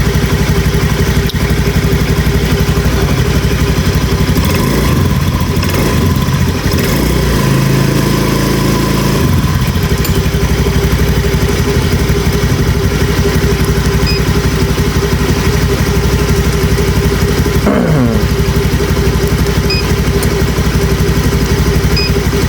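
Motorcycle engine started and left running, a loud close mid-pitched rumble that idles steadily for the whole stretch with a brief rise partway and some mechanical clatter.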